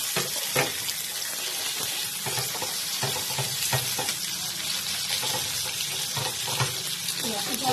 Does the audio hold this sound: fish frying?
yes